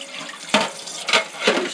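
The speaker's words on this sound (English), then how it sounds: "Rinse that a little bit off because you don't want no more salt water on it. You just put your cold water on there." Cold tap water running over a plate being rinsed after pickling, heard close and loud in three short splashing bursts with quieter flow between them.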